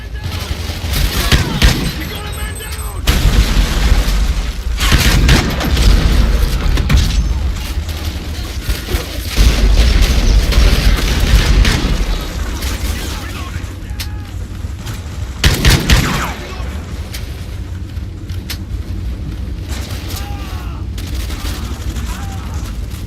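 Marksman rifle gunfire in Call of Duty: Ghosts multiplayer, bursts of loud shots and booming impacts layered over ongoing game noise, with a voice talking over much of the action.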